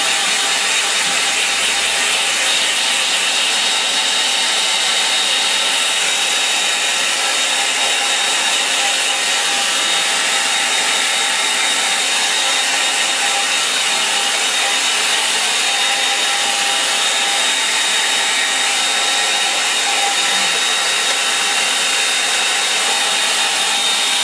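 A hair dryer blows loudly and without a break for over twenty seconds, drying a watercolour line-and-wash painting in a constant, close, whooshing roar.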